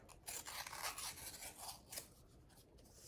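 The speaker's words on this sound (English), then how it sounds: "I'm just going to trim the sides off." Scissors trimming the sides off adhesive-backed paper for a journal pocket, a close series of crisp snipping and scraping cuts, quiet and alone without talk.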